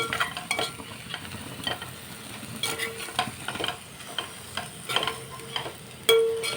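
Green beans frying in oil in a pan for a beans fry: a soft, steady sizzle with intermittent scrapes and taps of a stirring spoon, close and moderately quiet, ending on a louder clack, with no speech.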